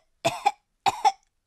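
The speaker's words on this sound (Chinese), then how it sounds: "他咳嗽是不是和这个有关啊" A child coughs in an animated cartoon, two harsh bursts of two coughs each and the start of a third, close and clear against silence, with no talking.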